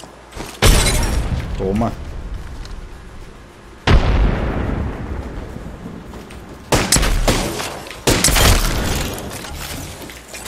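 Frag grenades exploding in the shooter game Apex Legends: several sharp, loud booming blasts spaced a few seconds apart, each with a brief rumbling tail, while a player talks over the action.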